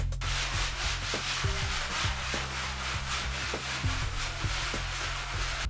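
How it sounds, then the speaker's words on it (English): Sandpaper is rubbed by hand over a wall surface to smooth bumps before wallpapering, giving steady, close scratchy strokes in a repeated back-and-forth rhythm with no talking. "use sandpaper to smooth down any severe bumps in the wall surface"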